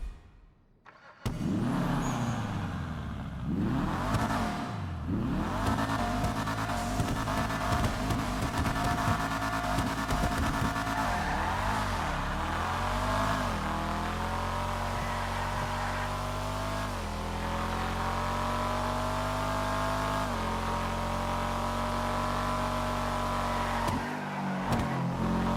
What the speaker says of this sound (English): This car, I wasn't expecting it to sound this good when it came out in GTA Online